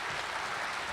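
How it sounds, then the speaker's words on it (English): Audience applause in a hall at an athletics hall of fame induction celebration, a faint, steady wash of distant clapping with no talking. "big round of applause, please"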